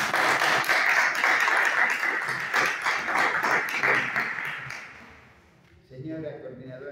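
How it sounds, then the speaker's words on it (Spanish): An audience at a cultural conference gives a steady wash of applause to welcome the speaker, dense and continuous before dying away, followed by a voice beginning to speak. "Bienvenido, un fuerte aplauso."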